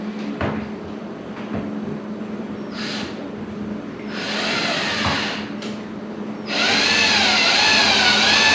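A power screwdriver drives screws to fasten a dishwasher's top mounting clip into a kitchen cabinet, whirring in two bursts, a short one and then a longer, louder run, with faint knocks before.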